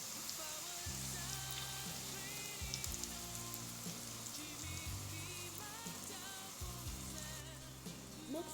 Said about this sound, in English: Add your onion and fry them for a minute or so